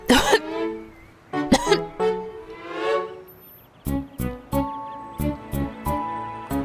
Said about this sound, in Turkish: Eğer söylemek istediğini söylemiyorsan öksür şimdi